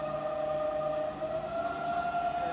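Bridgeport variable-speed milling machine spindle running in back gear, a steady mechanical whine with sustained tonal hum, constant and fairly close with no talk.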